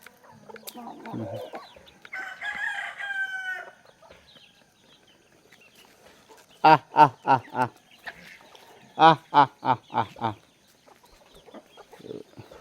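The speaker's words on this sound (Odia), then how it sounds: "ଇଏ ହେଉଛନ୍ତି କୁକୁଡ଼ା" Chickens cluck close by in two quick rhythmic bursts of short calls, with softer scattered fowl sounds and a brief voice around them.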